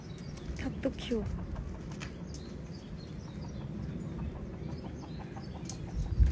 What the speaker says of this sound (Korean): 여기 닭도 키워요.